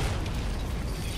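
An explosion in the game Sniper Elite 4 rumbles as a dense, continuous roar with heavy low-end boom sustained across the whole moment, loud and close with no voices over it.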